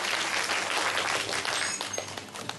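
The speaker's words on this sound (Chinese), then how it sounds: "掌声欢迎。" An audience applauds to welcome an introduced guest at a township mayor's cup music concert award ceremony. Dense, sustained clapping from a crowd fills the room, then thins and fades toward the end.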